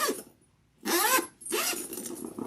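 A zipper on a sewn leather bag pulled in two quick strokes, each a bright ratcheting rasp, close and clear with a short silent pause between them.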